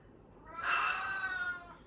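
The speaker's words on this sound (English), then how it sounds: "That's my cat saying hello, by the way." A pet cat meows once in a long, drawn-out call with rising and falling pitch, fairly close and clear over a quiet room, with no talking.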